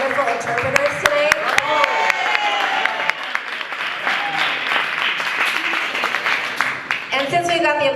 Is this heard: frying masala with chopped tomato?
no